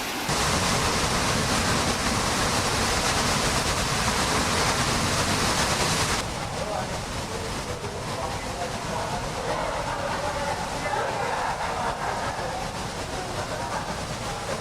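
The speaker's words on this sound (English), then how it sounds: "Here, behind the falls, the noise of the water is unbelievable." Thundering roar of Niagara Falls heard from behind the falls, a dense constant rush of crashing water, with a person speaking briefly over it partway through.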